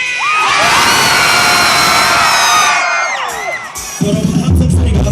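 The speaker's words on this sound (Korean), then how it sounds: "여러분 함성 소리가 굵고 짧습니다" A large outdoor university festival crowd screams and cheers in a loud, sustained roar of high shrieks and whoops that swells for several seconds, then breaks off into scattered noise and a rumbling boom.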